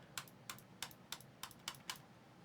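MacBook keyboard keys click in a quiet, steady series of about nine sharp taps spaced roughly evenly, faint and close with no voices.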